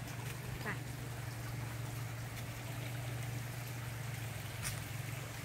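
A waterfall at The Blooms Orchid Park gives a steady, unbroken wash of rushing water with a low droning hum beneath, and a brief voice or two surfaces faintly.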